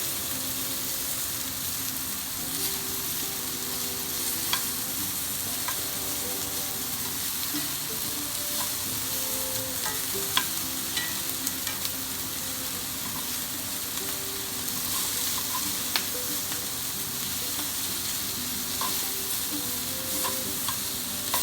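Brussels sprouts searing in a hot pan, turned with tongs for honey Dijon sprouts: a steady broadband sizzle that holds for over twenty seconds, with scattered small clicks and pops from the tongs and sprouts shifting.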